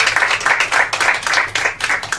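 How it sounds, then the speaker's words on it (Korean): A short burst of steady audience clapping at a policy forum event, many hands applauding together at close range, with no voices. "6분께 다시 한번 큰 박수 보내주십시오"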